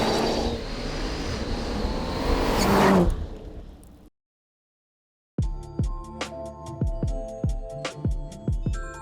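A Bentley Continental GT Speed launches from launch control with a broad, rising roar that builds for about three seconds and then fades. A short silence follows, then plucked music.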